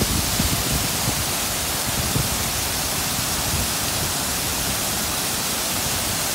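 Steady broadband rush of the waterfall at Hug Point on the Oregon coast, close and continuous, with a fuller low rumble pulsing at the start before settling into an even roar.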